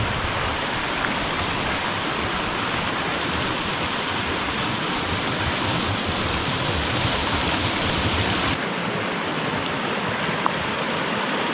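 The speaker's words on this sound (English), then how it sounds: "And an awesome river, or creek, whatever you want to call it." A mountain river or creek near a canyon campsite rushes along in a constant, dense roar of flowing water, loud and close for the whole stretch with no voices.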